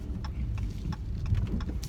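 A car driving on a road, heard from inside the cabin as a steady low engine and road rumble with faint intermittent ticks above it, nobody speaking over it.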